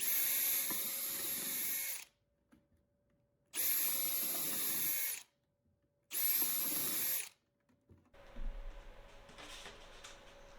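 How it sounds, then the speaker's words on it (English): A power drill whirs in three bursts of roughly two seconds each through plastic containers, separated by short pauses, close and loud, followed by lower rustling handling noise. "I'm going to switch over to using my drill"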